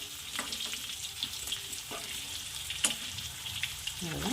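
Eggplant stirred and fried in oil with green chilli masala, a busy close sizzle broken by scraping spatula strokes and a few sharp clinks.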